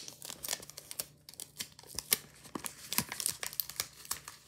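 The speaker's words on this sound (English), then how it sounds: "you need more tape for the edges" Paper tape is handled and pressed onto paper edges while a paper knife is made, giving close, irregular crinkling and tearing bursts with sharp crackles throughout.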